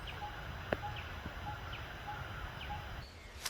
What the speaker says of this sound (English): the sounds of birds surrounding the ancient remains